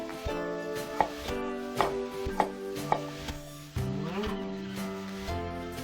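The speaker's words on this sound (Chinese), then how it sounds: "那我们荸荠把它切碎" A knife chops water chestnuts into small bits, giving a handful of sharp, separate cuts about half a second apart over steady background music.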